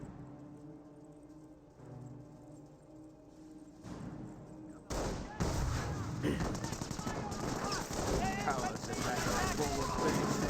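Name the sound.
gunfire on Grenadiers in video game Company of Heroes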